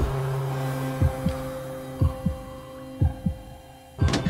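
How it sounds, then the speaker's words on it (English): Low-health dying indicator from the video game We Happy Few: a steady low throbbing hum with a heavy heartbeat-like double thump roughly once per second, five beats in all, close and alone with no talk. "it also has a musical and sound indicator that you are about to die"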